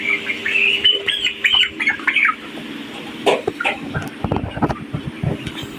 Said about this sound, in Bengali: আচ্ছা হ্যাঁ এই মুরগিটা ওঠান দেখি